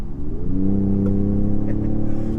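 A Ford F-150 Raptor's 3.5-liter twin-turbo V6 runs with a deep, steady rumble, its pitch edging slightly upward as it revs, close and loud throughout.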